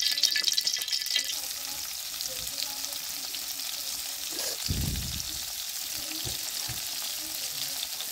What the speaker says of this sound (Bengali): চিংড়ি মাছগুলো আমার প্রায় ভাজা হয়ে গেছে